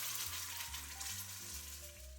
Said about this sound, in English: I'm going to heat a couple of tablespoons of avocado oil. Once hot, carefully pour in that sauce.